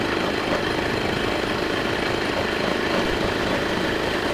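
A homemade adventure bike with a TVS 50 engine rides along, a steady, rough engine drone close by with no pauses.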